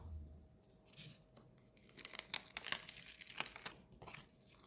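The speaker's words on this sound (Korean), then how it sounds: "프레임을 한번 뜯어볼게요." Crinkly crumpling and tearing of a Daiso sticker sheet as its frame is peeled away, quiet at first and then a denser run of close crackles and rips in the middle, fading out near the end.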